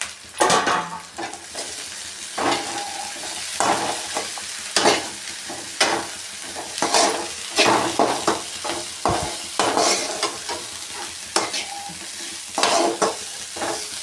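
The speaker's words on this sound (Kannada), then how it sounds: "ಹೂನು ಕೂಡ ನಾವು ಫ್ರೈ ಮಾಡ್ಕೋಬೇಕು" Drumstick flowers frying with onion and green chili in a pan, a steady sizzle broken by repeated stirring scrapes and clinks of a spoon against the pan, close and fairly loud, with no talking.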